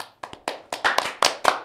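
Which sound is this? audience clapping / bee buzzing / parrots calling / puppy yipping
audience clapping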